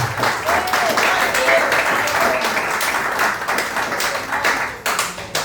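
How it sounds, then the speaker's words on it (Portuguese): A church congregation at an evening service applauds, sustained dense clapping for several seconds at close range, with voices mixed in before it tapers slightly at the end. "Aplauda o Senhor."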